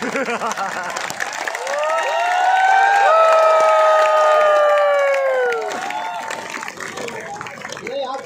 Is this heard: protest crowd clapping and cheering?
yes